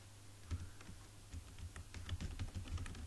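Keys of a computer keyboard tapped in a quick, irregular run of soft clicks, close but quiet, with no voices.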